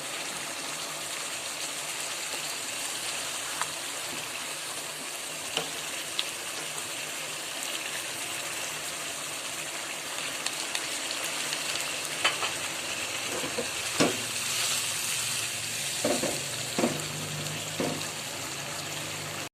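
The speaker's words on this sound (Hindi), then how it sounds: "ये देखिए मछली मसाले में डालकर भी अच्छी तरह दोनों तरफ से फ्राई हो गई है।" Fish sizzling as it fries in spice masala in a kadhai, a steady close hiss of hot oil with occasional soft stirring knocks and scrapes, no talk.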